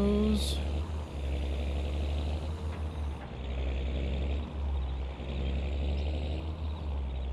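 A tractor engine in Farming Simulator 22 drones steadily with a low, humming rumble, the tractor hauling a load too heavy for it. A brief higher whine opens the stretch, and the engine note dips and swells slightly.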